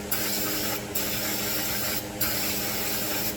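Brake cleaner hisses from an aerosol can onto rusty car brake parts in two long, steady close-up sprays with a short pause between them.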